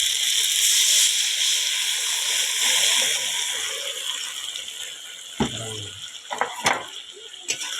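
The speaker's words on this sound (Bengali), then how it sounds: "দেখো ঝোলটা ফুটতে শুরু করেছে" A pointed gourd curry starts to boil in a pan, a steady hissing bubble that fades gradually, followed by a few sharp clinks and knocks near the end.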